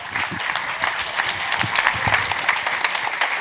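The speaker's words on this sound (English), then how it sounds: "Thank you, Tomston, for forcing that gratuitous round of applause onto this unsuspecting audience." A seated audience at a wrestling personality's question-and-answer session breaks into a brief, dense round of applause, many hands clapping together, loud and close for a few seconds.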